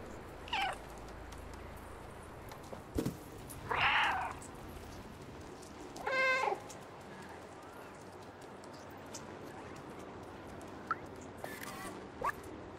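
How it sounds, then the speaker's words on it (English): A cat meows several times in the video game Stray, short separate cries spread across a quiet ambient background, fairly clear and close. "Meow meow."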